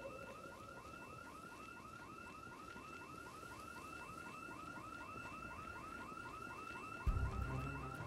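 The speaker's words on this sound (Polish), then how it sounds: "Jest żart z tym alarmem." A car alarm in the zombie survival game Project Zomboid wails in a steady, rapidly repeating warbling cycle, heard from a distance against a low background rumble, with a thump near the end.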